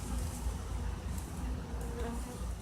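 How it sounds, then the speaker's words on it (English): Honey bees humming inside a hive: a soft, continuous low drone heard close but faint, steady throughout the short stretch with no voices. "if you listen carefully, you can actually hear the hum inside of the hive"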